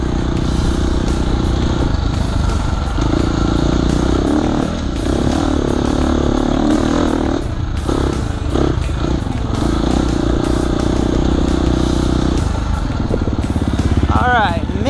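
Dirt bikes on a motocross single-track section of an OCCRA race course, loud engines droning and revving continuously close by throughout, with a rider's voice talking over the noise.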